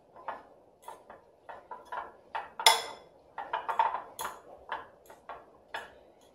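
A spoon clinks and taps against a bowl while tuna salad ingredients are stirred together, with irregular light knocks and one sharper ring midway, close and clear with no talk.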